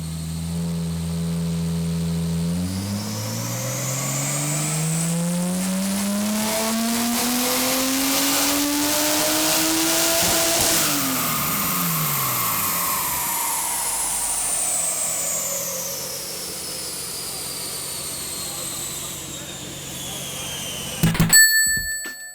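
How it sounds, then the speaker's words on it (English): Car engines of all types howl and rev hard on a dyno at a dyno day, a sustained loud climbing roar that rises to a peak, then falls away, ending in a brief burst of clatter. "cars of all types were howling on the dyno"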